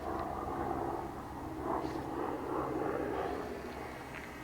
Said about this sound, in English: There's a helicopter flying around now.